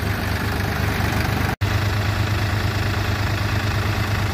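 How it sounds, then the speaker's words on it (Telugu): Powertrac Euro 45 Plus 4WD and New Holland Excel 4710 4WD tractors run in third load gear, a loud, steady diesel drone with low throbbing, broken by one instant dropout before the rumble carries on unchanged. "ఫ్రెండ్స్ ఇప్పుడు ఈ రెండు ట్రాక్టర్లు వచ్చేసి లోడ్ గేరు థర్డ్ గేర్లో రాబోతున్నాయి."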